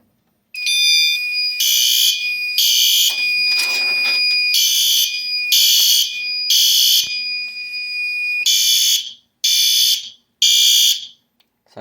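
A fire alarm on a test board sounds in loud, evenly spaced electronic horn bursts over a steady high tone, with a brief gap before the bursts resume and cut off.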